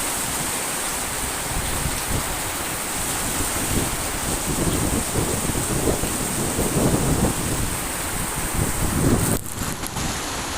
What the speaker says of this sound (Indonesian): Sekarang hujan deras disertai dengan angin kencang,